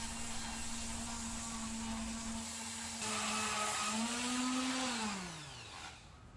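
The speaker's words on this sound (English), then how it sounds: "The door's cleaning up, sanding really good." Power sanding on an old varnished door, a steady motor whine that holds, rises in pitch and then winds down, moderately loud and close with no talk.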